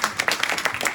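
Brief burst of audience clapping at a Hindi poetry recital, a kavi sammelan, with a few uneven claps sounding close and fairly loud.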